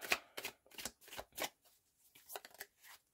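Tarot cards are shuffled and handled, giving a series of soft, papery riffling bursts in an irregular rhythm, faint and close, with no voice.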